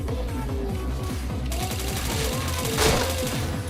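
Video game gunfire plays as rapid, evenly spaced shots in a continuous fusillade. A brighter, louder burst comes near the end.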